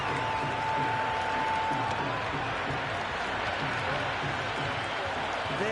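Steady crowd roar and cheering from a cricket video game match between India and South Africa, a continuous dense wash of noise filling the whole stretch, with a faint tone near the start.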